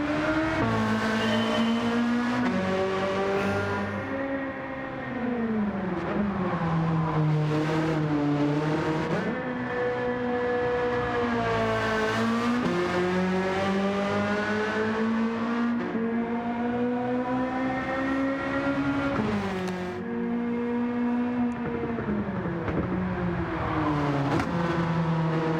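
A tuned Mazda Eunos Roadster MX-5 Miata races in Gran Turismo 7, its engine revving hard and climbing through gears with repeated shifts and dips, loud and close the whole way, with no talking.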